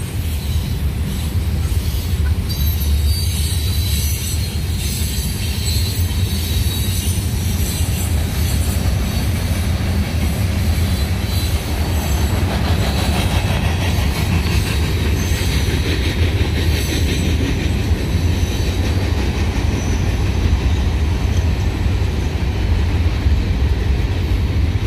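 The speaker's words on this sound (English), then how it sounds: "This may very well be a mega train as well." A loud freight train rumbles past continuously in Berea, Ohio, heavy low roar with rhythmic clacking of wheels and occasional metallic squeal, close by and unbroken throughout.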